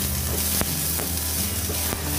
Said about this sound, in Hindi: कुछ चेरी टमाटोज थे जिसको मैंने हाफ काट के एक पैन में हल्का सा तेल गरम करके सौते कर लिया है।